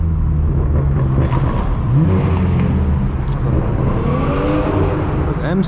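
A BMW M6 accelerates along Hollywood Boulevard on a Friday night, its engine revving and rising in pitch through a busy street scene, with traffic noise around it.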